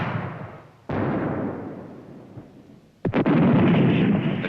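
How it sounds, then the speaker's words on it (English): Artillery guns firing in 1966 Vietnam War footage, with two loud, heavy booming blasts, each ringing out and slowly decaying, the second followed by a quick rattling echo. "Once down, the guns are soon in action, responding to target information passed on by signallers in the battalion command post."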